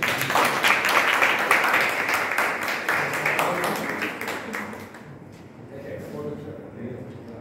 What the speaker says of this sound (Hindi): बहुत सारी तालियाँ पड़ी आप लिखे।